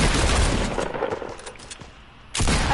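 Rapid bursts of video game gunfire crack close and loud, thinning into scattered shots before a heavy blast lands near the end.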